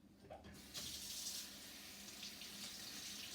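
Tap water running steadily into a kitchen sink for a rinse, a soft close hiss that starts after a brief clunk and keeps flowing evenly.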